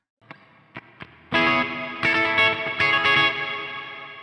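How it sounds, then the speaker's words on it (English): A clean electric guitar tone runs through a Quad Cortex with a washy reverb. A few soft picked notes come first, then fuller strummed chords ring out and decay into a lush, lingering reverb tail. "just sort of a clean with a washy reverb on it"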